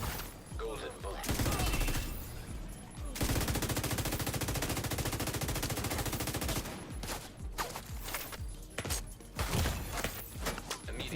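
Bursts of automatic gunfire in The Division 2 shooter game, long rapid volleys with short pauses between them, loud and close, and a player's voice briefly between shots.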